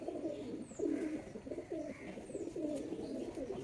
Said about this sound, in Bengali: একজোড়া কালডুম লাইনের কালাঙ্কা পায়রা